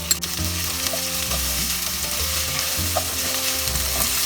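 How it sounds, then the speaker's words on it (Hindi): Potato pieces frying in oil with grated ginger and crushed green chili, a loud continuous sizzle with scraping stir strokes from a utensil against the pan, close and steady with no talk. "2-3 मिनट हमें फ्राई करना है चिली और जिंजर आलू का साथ"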